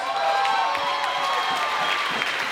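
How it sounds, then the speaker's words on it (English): Fight audience at an amateur boxing event applauding steadily, a dense wash of clapping with some cheering, loud and continuous throughout without talk. "give him a big round of applause right now"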